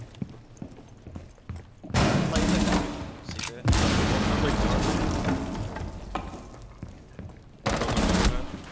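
Rapid bursts of gunfire from a Rainbow Six Siege match, loud sustained volleys starting and stopping in several stretches with brief quieter gaps between them.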